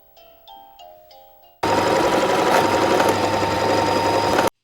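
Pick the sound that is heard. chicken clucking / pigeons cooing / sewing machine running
sewing machine running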